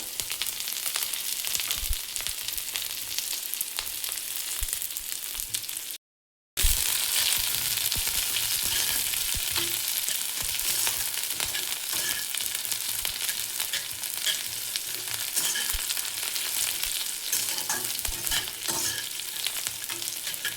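Chopped onions and chillies hit hot oil already holding whole dried red chillies and nigella seeds, a loud, steady, close sizzle with constant stirring scrapes, broken by one brief silent gap before the frying roars on.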